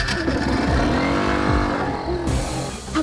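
A motorbike engine starts and revs up in rising, falling bursts, loud and close, with no talk over it.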